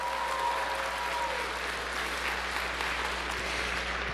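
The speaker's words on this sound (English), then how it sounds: "I think they deserve another round of applause" Large audience at a live stage show for Canada's 150th anniversary giving steady, sustained applause, a dense wash of clapping heard at a distance with a constant low hum underneath.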